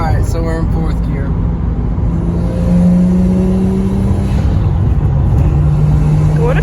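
Inside the cabin of a 1993 Nissan Skyline R33 GTS-t, the RB25DET turbo engine drones under load with rising tonal whines as it pulls through the gears. A person talks over the engine at the start.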